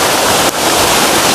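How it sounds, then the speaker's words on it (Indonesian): The Tirta Bhuana waterfall roars in a loud, constant broadband rush close to the microphone, with no voices over it. "Tuh air terjunnya di sana."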